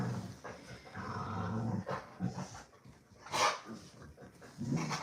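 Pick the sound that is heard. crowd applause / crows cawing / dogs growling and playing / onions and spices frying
dogs growling and playing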